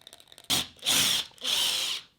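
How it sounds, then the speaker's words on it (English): A power drill bores a pilot hole in a wall for a curtain pole bracket in two close, loud bursts with a short pause between them. "For maximum accuracy when drilling, we would always recommend drilling a pilot hole first."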